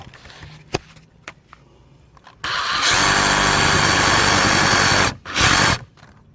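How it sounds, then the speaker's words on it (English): A reciprocating saw trims a cut on wooden deck framing, starting after a few knocks and running as a loud, steady buzzing roar for about three seconds, then a short final burst close to the listener. "Now he's just cleaning up with a Sawzall."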